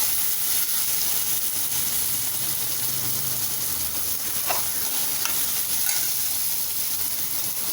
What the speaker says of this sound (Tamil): நல்லா கேஸை ஃபுல்லாக ஹையில் வச்சுடுங்க, ஹை ஃப்ளேம்லேயே வச்சு வதக்குங்க.